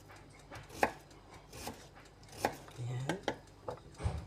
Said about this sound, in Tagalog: hihiwain natin siya ng pino, bilog, ganyan, pabilog